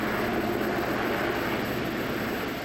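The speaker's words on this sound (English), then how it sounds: "The crews are supported by helicopters and air tankers working the same lines" Firefighting helicopters and air tankers working over a wildfire, a steady broadband engine roar overhead, loud and continuous without pause.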